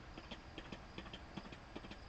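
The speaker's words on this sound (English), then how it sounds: "the hoof clack of horses" Horse hooves clack on a road as they pass an Amish buggy, an even, repeated clip-clop rhythm that sounds faint and a little distant, with no voices.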